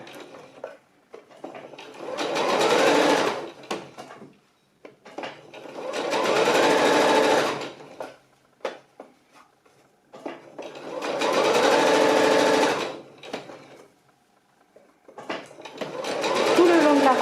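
Sewing machine stitching the back seam of a salsa dress, running in four loud bursts of steady whirring separated by pauses.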